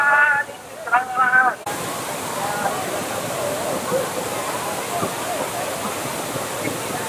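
Waterfall in Kanyakumari pouring down from above, a loud, continuous broadband roar of crashing water that fills the scene after a few seconds of voices at the start.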